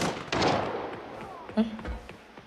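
Bot gunfire in the shooter Arena Breakout: a few sharp shots and a distant burst crack out over a dull in-game background, with a voice talking over part of it.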